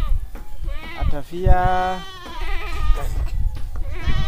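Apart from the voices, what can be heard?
goats bleating at a rest area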